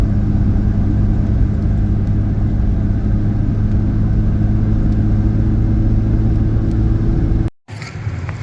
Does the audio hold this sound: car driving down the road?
yes